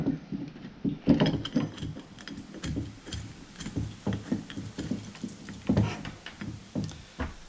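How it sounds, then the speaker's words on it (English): A number 4 Allen wrench quickly backs out the bolts on an off-road hood light bracket, giving a steady run of close, light ratcheting ticks and small metallic clicks with no voices. "number 4 Allen wrench, but I lied to you about one thing. You want to take these out quick."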